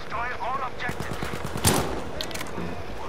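Automatic gunfire bursts from a Battlefield V battlefield, rapid repeated shots with a sharp louder crack midway, mixed with a voice speaking over the action.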